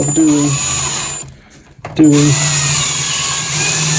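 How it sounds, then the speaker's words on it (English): A power drill whirs steadily at close range, drilling holes in an old 8-bay NAS, cutting out briefly in the middle before spinning up again; a faint voice murmurs underneath. "Maybe I should drill all the holes while I'm at it."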